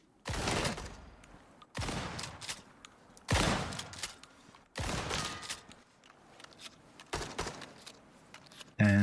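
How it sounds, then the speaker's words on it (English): A turret in a survival video game fires several bursts of gunshots, each a sharp loud volley followed by a brief pause, repeating about five times at a moderate distance. "Oh, it's a turret."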